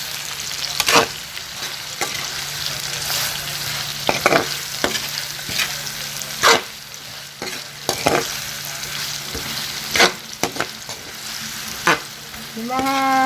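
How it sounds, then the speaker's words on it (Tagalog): A spoon stirs adobo with tomato paste in a pan over a steady sizzle, with sharp scraping knocks recurring every second or so and a brief tonal squeak near the end. "Haluin nyo. Haluin nyo yung bati."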